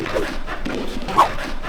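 A dog gives a brief, faint, high whimper over a busy, noisy indoor background.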